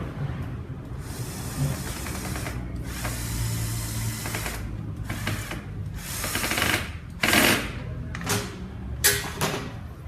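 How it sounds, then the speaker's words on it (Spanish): A screw is tightened on the clamp of a PORT 423 backpack fogger, heard as repeated whirring bursts of a motorized tool separated by brief pauses, fairly close, with no one speaking. "Procedemos a ajustar el tornillo."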